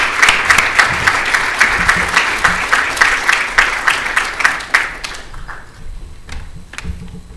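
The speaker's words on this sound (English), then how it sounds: "So please welcome her to the stage with a wonderful round of applause." A conference audience applauds to welcome a keynote speaker to the stage, with loud, full clapping carrying a steady pulse for about five seconds before it thins to a few scattered claps in a quieter room.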